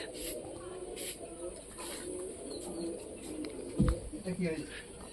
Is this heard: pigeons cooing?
yes